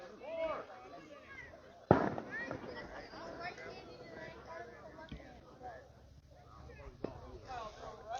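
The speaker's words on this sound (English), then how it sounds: "Somebody testing fireworks off." Fireworks go off in the distance near an outdoor youth (13U) baseball game, giving one sharp loud bang and a few fainter pops under steady crowd chatter and commentary.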